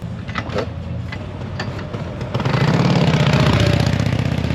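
A 1979 Harley-Davidson Shovelhead motorcycle engine idles steadily nearby, its low throbbing rumble growing fuller and louder about halfway through.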